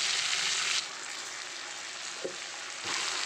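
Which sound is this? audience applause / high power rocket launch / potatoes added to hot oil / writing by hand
potatoes added to hot oil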